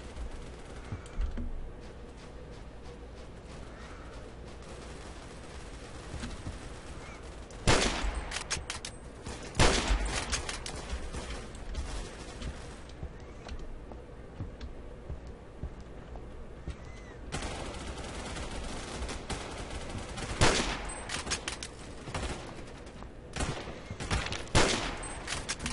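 Assault sniper rifle fire in the Phantom Forces shooter, several sharp loud gunshots in bursts spread across a noisy stretch of play, with clicking in between.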